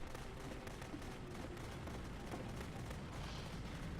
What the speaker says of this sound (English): why is it always like really low audio for the gun?